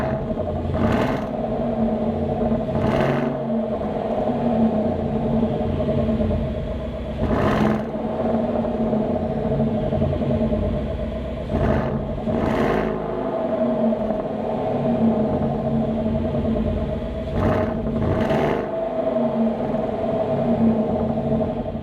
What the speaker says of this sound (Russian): А теперь пора послушать V8.